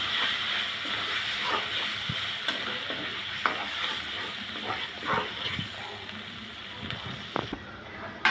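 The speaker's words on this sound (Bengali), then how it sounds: "এখন আমি দিয়ে দেব লাউয়ের খোসা আর বিচি বেটে নিয়েছি ওই পেস্টগুলো। ভালো করে মশলার সাথে মিশিয়ে নিব।" A spoonful of ground gourd peel and seed paste stirred into spiced oil in a pan, with a soft steady sizzle under scattered scraping clicks of the spoon.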